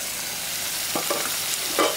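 Chicken pieces with onion and green chillies sizzle steadily in a pan for a fried chicken dish, with a couple of stirring scrapes near the middle and end.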